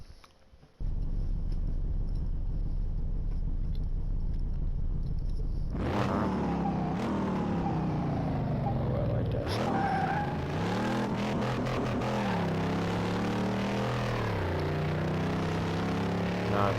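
A Chieftain TBX car in Car Mechanic Simulator idles, then revs hard and accelerates through several gear changes, its engine note climbing and dropping loudly with tire noise.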